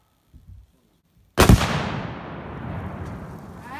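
A single loud gunshot fired at a gender reveal target outdoors, a sharp close crack after brief quiet and faint murmurs, followed by a long rolling echo that fades slowly.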